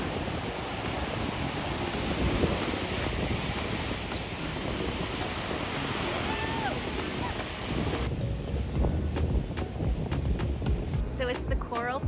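Big surf crashes and churns at Condado beach in San Juan, Puerto Rico, a steady loud roar of breaking waves with wind buffeting the microphone throughout and faint voices mixed in.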